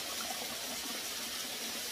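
Water pours steadily from a tap on a hiking trail as a water bottle is refilled, a soft, continuous hissing gush heard close and alone without talk.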